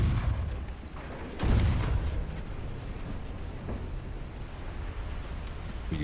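Warship guns fire in Ultimate Admiral: Dreadnoughts with a heavy boom, set in an 1890 French fleet battle. The sharp blast comes after a rumbling start, then fades into a low, wash-like roar with smaller thuds, and no voices.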